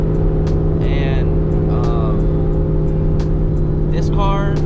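A Ford Mustang GT fitted with a catback exhaust drones steadily as it drives, a loud constant low engine hum filling the cabin, with brief speech-like bursts over it.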